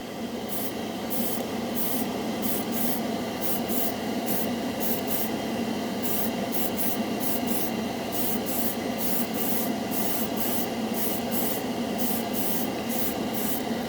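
Airbrush spraying Model Master Metalizer paint gives a steady close hiss, broken by frequent short rhythmic pulses as the trigger is worked on and off, with no talking.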